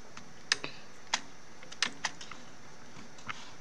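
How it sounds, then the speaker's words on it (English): Keystrokes on a computer keyboard during a demo of Windows shortcut keys in Notepad: a handful of sharp, separate clicks spread unevenly over a few seconds, close and clear against a quiet room. "let me type something"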